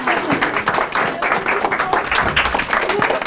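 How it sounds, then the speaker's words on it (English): Audience clapping for a teacher at a middle school assembly, a steady dense patter of many hands with cheering voices mixed in, sustained loudly throughout. "What keeps the clapping up?"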